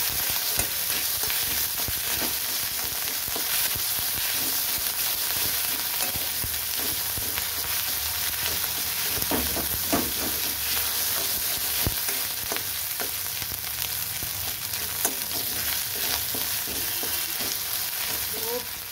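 Asafoetida with garlic and ginger paste frying steadily in a pan for a ghugni of green peas, a continuous close sizzle broken by occasional scraping stirs, with no voice.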